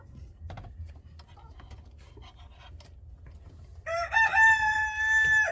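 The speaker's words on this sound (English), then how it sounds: "That's the Silky rooster." A Silkie rooster near a chicken coop gives a loud, drawn-out crow starting a few seconds in, after quiet rustling and scratching sounds, with a few scattered clucks beforehand.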